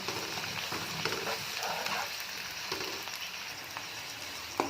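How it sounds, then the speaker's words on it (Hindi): Chopped onions crackle and sizzle in hot oil for a chicken and chickpea curry, a steady close hiss with small popping bursts and occasional stirring scrapes, no one speaking. "ये ऑयल गर्म हो गया, अब इसमें जाएगा प्याज।"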